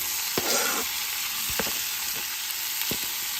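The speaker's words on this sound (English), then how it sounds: "we're just gonna toss it in the pan. Use whatever cooking oil you like." Vegetables for pierogi filling sizzle in cooking oil in a pan, a dense hiss with a few brief clanks and stirring scrapes, close and without talk.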